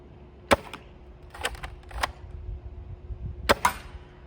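A Nerf Siren Maulr and Longshot blaster fire in sharp, isolated snaps, a pair of close shots with a couple of softer clicks between them, against a quiet background.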